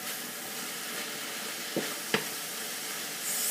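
Kale sizzling in olive oil in a pan over medium heat, a steady broadband hiss with a couple of brief scraping clatters from stirring, close and continuous.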